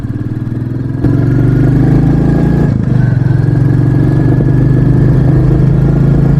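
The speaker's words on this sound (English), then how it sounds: "it's got that little popping noise at the back of the exhaust" A Royal Enfield Bullet 350 motorcycle engine running loud and steady at close range while riding, with a throaty, popping exhaust note that rises slightly after the first second.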